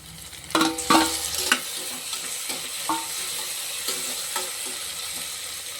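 Onions and tomatoes for a peas kootu sauté in a pan with a continuous sizzle and repeated clattering, scraping strokes of a spatula, loudest near the start.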